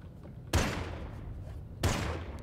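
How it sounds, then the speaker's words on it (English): Gunfire in the sky-island game Worlds Adrift, two sharp broadband bursts about a second apart, each trailing off into a rumbling tail, fairly close against a steady low background hum. "He's still shooting at him."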